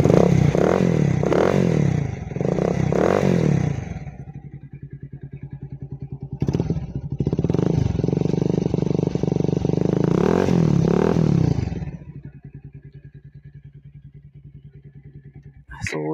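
A modified Bajaj Pulsar 150 motorcycle revs repeatedly in a public place, the engine and exhaust rising and falling in loud bursts before settling to a steady, throbbing idle close by.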